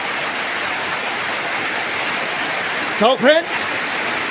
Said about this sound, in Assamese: এয়া ধাৰাসাৰ বৃষ্টি, অতিবৃষ্টি,